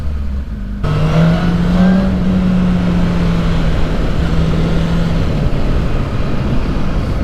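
A 2007 Honda CBR 600RR motorcycle engine while riding: a steady, loud engine drone with a brief early rise in pitch, heavily mixed with continuous wind rush.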